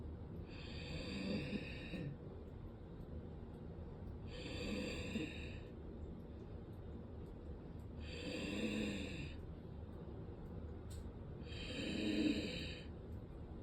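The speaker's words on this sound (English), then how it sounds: "I will do my shadow release breathing, which represents my Aries-Cancer-Scorpio detox." Deep breathing exercise done sitting with a straight spine, four slow rounds of inhaling and exhaling, each breath lasting about two seconds with long pauses between, close and fairly soft with no talking.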